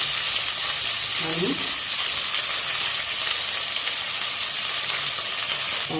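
Onion, curry leaves and green chili sauté in hot oil for tomato rice, making a loud, constant close-up sizzle that never lets up.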